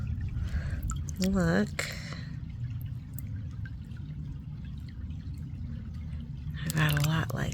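Shallow water is stirred up and sloshed while someone hunts for rocks, giving soft dripping, squishing splashes in the pauses between close speech.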